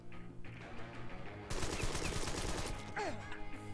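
Automatic gunfire in the Empire of Sin video game, a sudden loud rapid burst of shots that cuts in midway and rattles on for about two seconds before fading back to the game's background sound.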